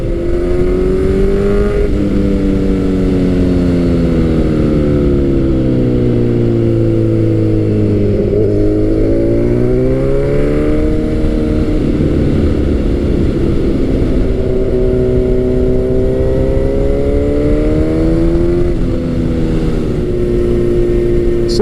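Kawasaki Z900 motorcycle engine heard while riding, loud and steady throughout, its pitch rising and falling through gear changes and throttle shifts, with constant wind rush and no talk.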